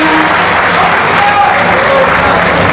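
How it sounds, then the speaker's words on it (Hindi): Loud, dense applause from a kavi sammelan audience in Bhilai, steady and sustained throughout with a faint voice briefly rising over it. "तालियां बजा दीजिए"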